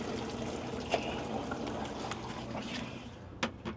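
Water is poured into an RV black tank, giving a faint, continuous trickle and gurgle with a couple of soft knocks from the plastic tank and fittings.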